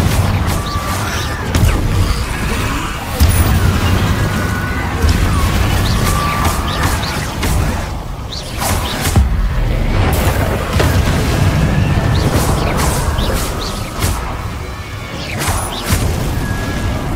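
A Confringo fire spell blasting in Hogwarts Legacy during a skeleton attack, with dense booming crashes and rumbling impacts layered over continuous loud game effects and music.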